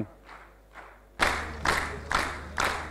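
An audience at a student quiz competition claps in unison: a few soft rhythmic claps, then a sudden loud swell into strong, evenly spaced collective claps about twice per second.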